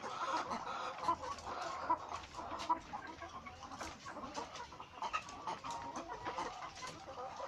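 Chickens cluck steadily in a busy chorus, close by, with overlapping clucks and short squawks throughout.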